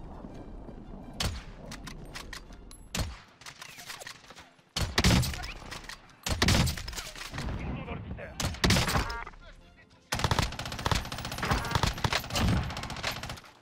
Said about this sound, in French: J'ai foutu un tir de pression